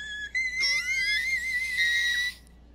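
A voice sings very high, thin whistle-register notes, sliding between sustained pitches for about two seconds, close and clear.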